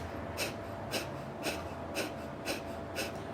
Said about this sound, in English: it sounds like you're blowing your nose quickly